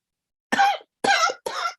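Three quick, raspy coughs in a row from one person with a lingering cold, close and fairly soft, each followed by a brief pause.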